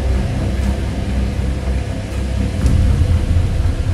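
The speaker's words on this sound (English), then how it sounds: "It's starting to drizzle. There's a lot of wind" Strong wind gusting outside during a storm with drizzle and lightning, a steady loud broadband roar with low rumbling that swells slightly near the end, no voices.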